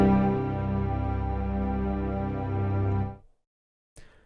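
A synth patch from the Sound Yeti Ambition plugin, a rich sustained harmonic tone held for about three seconds, then cut off sharply when the keys are released, followed by a short faint blip.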